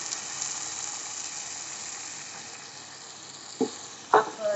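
Tomato puree cooking on high heat in a pan sizzles steadily and close by, with a few sharper stirring scrapes near the end.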